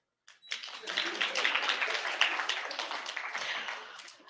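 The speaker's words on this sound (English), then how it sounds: "Clap." An audience claps together at a tech talk with a St. Jude guest speaker, a steady, fairly loud burst of applause that starts abruptly and holds for about four seconds with no other sound.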